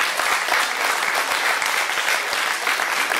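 A crowd at an agricultural fair in Saint-André-les-Alpes claps loudly and steadily for school prize winners, a thick, continuous burst of applause.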